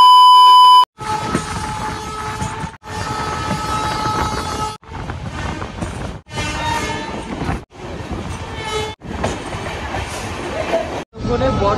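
A passenger train rumbles loudly along the line between Sainthia and Digha, with a horn sounding at the start and a steady clatter of wheels and carriages through several abrupt cuts.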